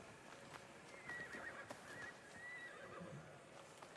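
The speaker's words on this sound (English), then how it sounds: "Come on, horsey." A horse in the video game Assassin's Creed Shadows lets out a clear whinny with quiet hoof clip-clop behind it, close and moderately loud.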